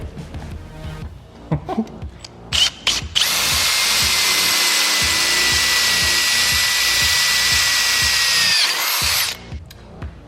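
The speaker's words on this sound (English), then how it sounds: "drill the hole so we can put the bolt and nut through" A power drill whines steadily for several seconds, loud and close, drilling bolt holes through a metal bar, after some short knocks and handling noises.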